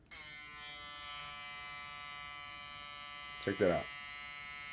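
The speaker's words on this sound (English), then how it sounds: "Here is the trimmer." A Suprent Fangs electric trimmer buzzes steadily and close, a bright continuous hum throughout, with someone speaking briefly over it near the end.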